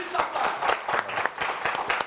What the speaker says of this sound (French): Est-ce qu'on peut applaudir tout ça?